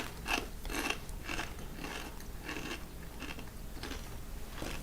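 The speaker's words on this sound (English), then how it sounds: "While I'm doing this, I'm going to eat a Dorito because I'm starving." Doritos tortilla chips being eaten, a series of sharp, close crunches repeating about once or twice a second with no talking.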